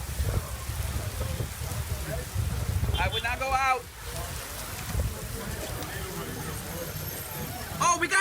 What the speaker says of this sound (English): we got hail!